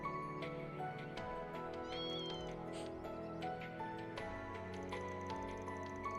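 Cats meow back and forth in the Trails Through Daybreak II game, several drawn-out, wavering yowls rising over a continuous backdrop of game music.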